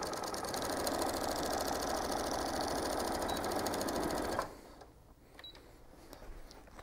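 A sewing machine runs a fast, steady stitch for a backstitch on a fabric action-figure holder project, then stops abruptly, leaving faint handling ticks and rustles; close and alone, with no talking.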